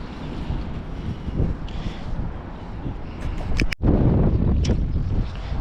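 Strong wind buffets the microphone outdoors, a gusty rough roar rising and falling throughout, with a sharp brief dropout near the middle.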